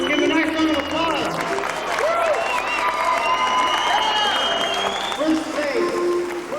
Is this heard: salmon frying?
no